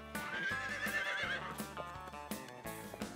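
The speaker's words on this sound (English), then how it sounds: "Wow, horses are amazing animals." A horse whinnies in a long, wavering neigh over a layered background of music, with hoof clip-clops and other rhythmic sounds continuing afterward.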